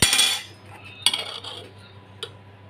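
A metal spoon clinks against a pot of tomato sauce while koshari is being made: one sharp ring at the start, then a second clink and a lighter tap, each fading quickly into quiet.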